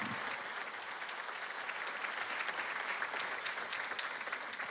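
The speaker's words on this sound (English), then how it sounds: "Can we have a round of applause?" A seated audience claps for Teachers of the Year at a county celebration event, sustained even applause, moderately distant and fairly quiet, with no speech over it.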